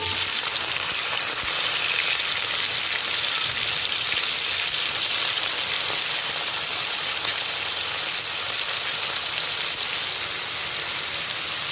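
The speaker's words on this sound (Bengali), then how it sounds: "এবার আমি মাছটা তেলের মধ্যে দিয়ে দেব।" Prawns sizzle in hot mustard oil in a wok, a dense, even crackle of frying that runs continuously and fairly loudly with no talk over it.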